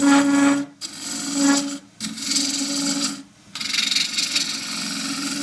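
A gouge scrapes and rasps against the end grain of a wooden bowl spinning on a lathe in three bursts separated by short pauses, loud and close with a steady grinding tone.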